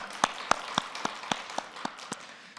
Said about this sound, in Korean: 우리 하나님께 영광의 박수를 올립니다.